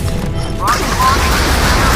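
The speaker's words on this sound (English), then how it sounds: "Stand by rocket launcher. Fire." A rocket launcher fires in the naval combat game Modern Warships, with a sharp booming launch blast breaking through a steady roar of game background sound.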